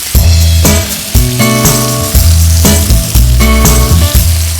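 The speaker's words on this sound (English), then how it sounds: "We're just going to sear them on the first side, turn them over, sear them nicely on all sides, nice golden brown crust" Chicken legs searing in a pan for Goan cafreal, loud steady sizzling and frying with repeated scraping and stirring knocks from a utensil, close up.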